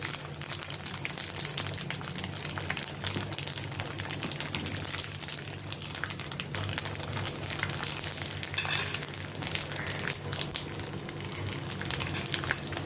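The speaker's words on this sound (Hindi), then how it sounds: "इसी तरह मैंने ये दूसरा बैच भी ये फ्राई कर लिया है। अभी इसको भी थोड़ा क्रंची करके फिर निकालूंगी।" Macaroni pieces for homemade kurkure fry in hot oil, giving a loud, continuous bubbling sizzle that stays steady and close throughout, with no talking.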